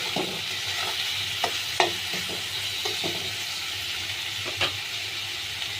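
Ginger-garlic paste frying with egg in a pan, stirred with a steady background sizzle and scattered scraping clicks of the spoon, no voices.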